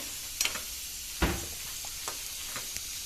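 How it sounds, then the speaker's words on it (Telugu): Onions fry in a pan for chutney, a faint, steady sizzle with occasional soft stirring scrapes, close and quiet, with no talk. "ఇలాగా దోరగా వేయించుకోవాలి."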